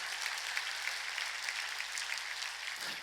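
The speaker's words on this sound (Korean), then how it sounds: "빨리 박수" A church congregation at a Sunday worship service breaks into applause, an even, sustained wash of many hands clapping, heard faintly from a distance with almost no talk.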